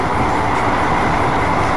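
A helper locomotive reverses along the track during the evacuation of the derailed KA Pandalungan train, giving a steady, loud rumbling drone of rolling rail stock with no clear breaks.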